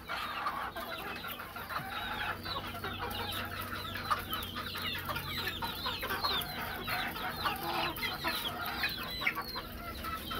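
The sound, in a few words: chicken clucking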